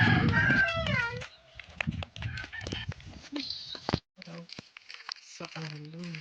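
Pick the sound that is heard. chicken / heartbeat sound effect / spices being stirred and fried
chicken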